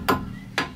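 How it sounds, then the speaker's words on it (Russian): Two sharp, light metallic taps from a small hammer about half a second apart, close by, with a third starting at the very end; no talking. Tapping on brake parts of a Lada Kalina during repair. "необходимо рукавым молоточком"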